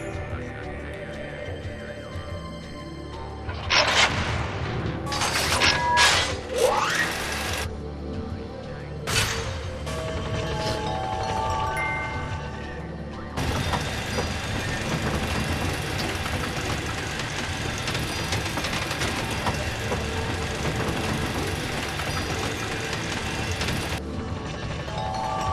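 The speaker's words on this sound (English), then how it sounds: "go ahead and board the elevator and choose to ride it to the 6th tier" An elevator ride up to the 6th tier of Taejin's Tower in the video game Final Fantasy XIII: a few sharp clanks and chimes first, then a loud, steady mechanical hum that drones on without a break.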